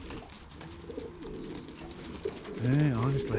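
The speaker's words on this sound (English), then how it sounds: "That's why he's cooing about and he's showing." A young pigeon cock coos in a loft, with a low, throaty, rolling coo that swells near the end, close and clear. Someone talks briefly over the start.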